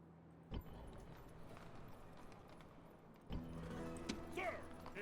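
Horses clip-clop across the battlefield in the Rome: Total War video game, a steady hoof patter under a continuous game soundscape that swells louder partway through, with voices talking over it.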